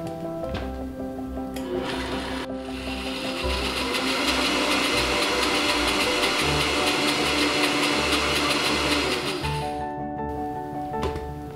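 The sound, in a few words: blender blending lemon fat bomb ingredients with maple syrup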